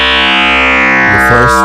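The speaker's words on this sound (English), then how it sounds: "Like this, a little bit of reverb." A sustained, buzzy granular synthesizer tone with light reverb holds steady and loud, then shifts and wobbles in pitch near the end.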